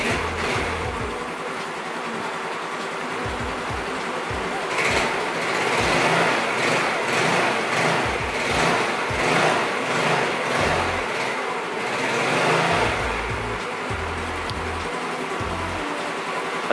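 Motorcycle engine with a battery drive enhancer relay fitted, revving repeatedly in a loud, continuous run with rising and falling surges, heard close and without speech.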